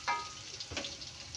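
Tempeh frying in hot oil, a steady soft sizzle with a brief louder crackle at the start, heard close and alone without talk.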